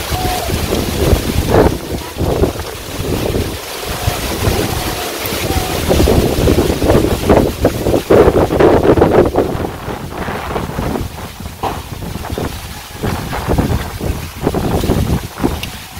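Strong wind blows across open rice paddies, a steady, loud rushing roar that buffets the microphone continuously throughout, with no clear talk.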